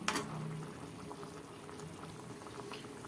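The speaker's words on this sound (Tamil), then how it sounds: "குழம்பு நல்லா கொதிச்சிருச்சு" A pot of vegetarian banana-flower curry boils softly, with steady low bubbling that stays quiet and close and has no other sounds over it.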